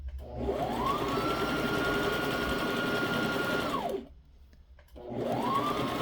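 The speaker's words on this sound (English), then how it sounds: "So then I just stitch right over the elastic while pulling it." A sewing machine stitches over elastic on a wool diaper cover. Its motor whine rises to a steady high hum for about three seconds, stops briefly, then spins up again, close and loud with no voices.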